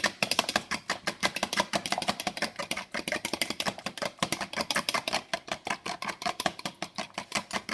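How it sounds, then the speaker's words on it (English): A fork beats eggs in a bowl with a fast, even run of sharp clicking taps that keeps going throughout, close and clear, with no talking. "you just take a fork and you just whisk the whole thing together"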